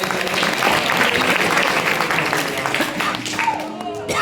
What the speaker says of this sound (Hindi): एक भाई जोरदार ताली बजाओ